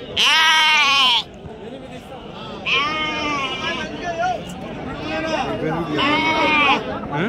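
Sheep at the Angallu weekly sheep market bleat loudly in three long, wavering calls close by, with people chatting in the background between them.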